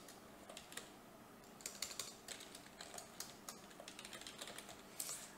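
Soft, rapid clicking of keys on a computer keyboard as an email address is entered, an irregular run of quiet taps close to the microphone.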